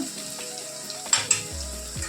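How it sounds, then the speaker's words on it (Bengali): Chopped onion fries in a pan with a steady close sizzle, broken by a couple of light clinks of a utensil near the end. "পেঁয়াজটা আধা ভাজা হয়ে গেছে আমি এইরকমই আধা ভাজা করবো পেঁয়াজটা"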